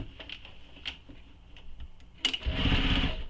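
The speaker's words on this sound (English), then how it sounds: "We can continue with sewing around." A sewing machine stitches continuously around a tote bag, a steady rapid mechanical patter up close that swells louder and busier toward the end, with no talking.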